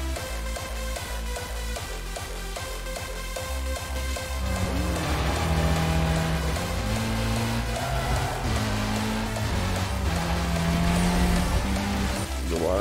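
Racing car engine in the video game Need for Speed Most Wanted, a continuous loud drone that climbs and drops in pitch with repeated gear shifts, under a steady background of game sound.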